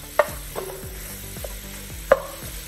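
Ground beef browns with peppers and onions in a pan for chili, a soft steady sizzle under a few sharp scraping and tapping stirs of a utensil against the pan, close and quiet, with no talking.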